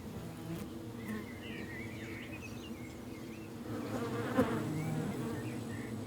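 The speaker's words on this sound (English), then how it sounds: "This apiary at the edge of the forest has 24 colonies, 1 million bees" Many honey bees buzz in a steady droning swarm at a forest-edge apiary of 24 colonies, with individual bees whirring past near and far over a low background hum.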